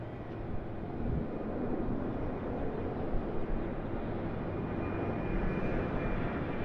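Virgin Australia Boeing 737 at Sydney Airport, a steady broad jet roar that holds at an even level throughout, heard from a distance with no talking.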